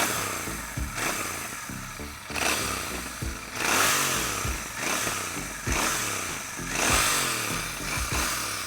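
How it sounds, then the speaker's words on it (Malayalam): A Royal Enfield Bear 650 motorcycle engine revs in a steady series of roughly one-second throttle blips, loud and close with no talking. "ഇതാണ് ഈ ഒരു വണ്ടിയുടെ സൗണ്ട് കേട്ടോ"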